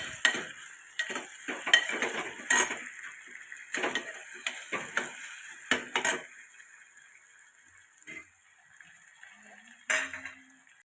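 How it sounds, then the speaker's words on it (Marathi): Potatoes stirred into frying onion and tomato in a pan, repeated close scraping and clattering of a spoon against the pan over a light sizzle, then quieter with a few final knocks. "कांदा टोमॅटो टाकून झाल्यानंतर आपण बटाटे टाकलेत."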